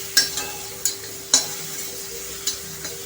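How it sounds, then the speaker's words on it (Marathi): Onion, garlic and green chilli paste frying in a pan for a bhindi dish: a steady low sizzle broken by several sharp clicks and scrapes of a spoon stirring against the pan, close and with no talk. "ती पेस्ट आपण छान अशी फ्राय करून घेणार आहे."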